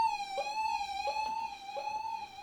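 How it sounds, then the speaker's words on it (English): A traditional dub siren effect created on a P.A. mixer with the low end cut and mid-range boosted, a steady bright electronic tone with harmonics and a rhythmic pulsing wobble repeating about every 0.7 seconds, loud and alone. "That's a traditional dub siren"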